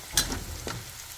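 Garlic sautéing with onion in a hot pan, a continuous close sizzle with a couple of sharp stirring scrapes.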